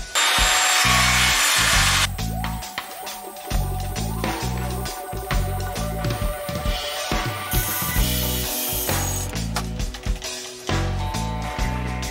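A power saw cuts wood on a table, loud bursts of high whining buzz alternating with lower rumbling passes and short pauses, close to the listener with no talking.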